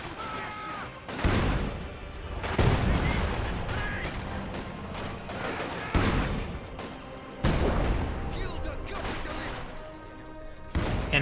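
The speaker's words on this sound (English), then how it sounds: "Small arms fire!" Small arms fire crackles in a Company of Heroes 2 battle, with rapid bursts and distant explosive booms repeating in waves over about eleven seconds, under a commentator's voice.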